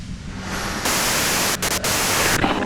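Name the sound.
radio white noise static in video game Disco Elysium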